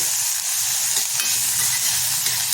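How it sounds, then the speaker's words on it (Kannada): Chopped tomato frying in a pan for paneer bhurji, a steady close sizzle with stirring scrapes throughout and no talk. "ಟೊಮೆಟೊ ಹಾಕ್ಕೊಳ್ತಾ ಇದ್ದೀನಿ ಹೆಚ್ಚಿರೋದೊಂದು ಟೊಮೆಟೊ ಒಂದು ಸುತ್ತು ಹುರಿದ್ಬಿಟ್ಟು"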